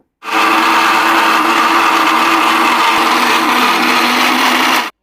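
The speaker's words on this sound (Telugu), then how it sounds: "ఇప్పుడు మెత్తగా గ్రైండ్ చేసుకుందాం" A mixer grinder whirs loudly and steadily while grinding neer chutney, starting abruptly and cutting off after about five seconds of continuous blade noise.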